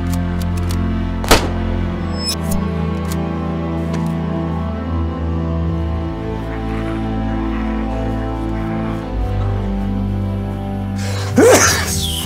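A single sharp sneeze from a character in the survival game DayZ bursts out near the end, over a steady low game ambience.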